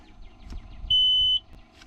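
A single steady high-pitched electronic warning beep from a machine bought at auction after sitting for years sounds for about half a second over faint, low background noise.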